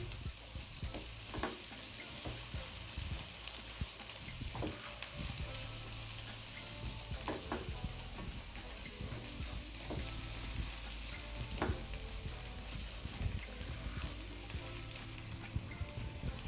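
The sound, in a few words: frying spice paste with mutton brain and eggs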